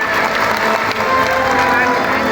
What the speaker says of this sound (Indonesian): Tepuk tangan yang luar biasa untuk Mami Ingat.